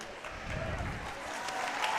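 Crowd applauding at a youth roller derby bout, a steady wash of clapping from a fair-sized audience with a faint murmur of voices mixed in, sustained evenly for about two seconds.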